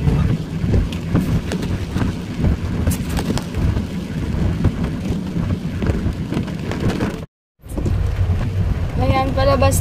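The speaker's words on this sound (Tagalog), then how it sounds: "o lakas ng ulan, no?" Heavy rain pours in a dense, loud, continuous roar, broken by one brief dropout, with a voice speaking faintly beneath it.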